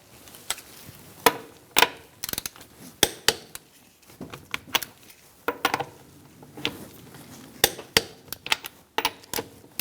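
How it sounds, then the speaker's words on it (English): A torque wrench tightens the wheel lug nuts on a 2004-2009 Mazda 3 in a star pattern, giving sharp, irregular clicks and ratcheting snaps, close by and without talking. "We're going to torque our wheel to 85 foot-pounds in a star-like pattern."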